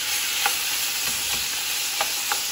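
Chicken for hot curry frying in a pan over medium-high heat, with a loud continuous sizzle and a few soft scraping stirs, no voices.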